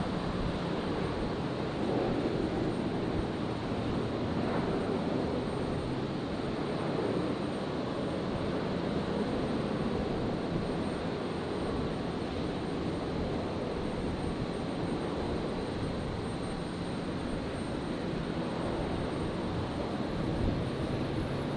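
An Embraer jet flying as Qantas 1911 takes off from runway 01 right at Brisbane Airport, bound for Canberra, with a sustained, even jet roar that persists at steady strength for over twenty seconds without any talking.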